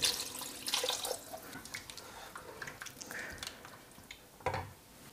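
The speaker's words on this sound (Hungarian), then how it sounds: "rögtön már is itt van a kezembe a víz közben, öntöm is fel kevés vízzel" Water is poured from a container into a cooking pot of székelykáposzta seasoned with paprika, with soft splashing bursts near the start and again near the end.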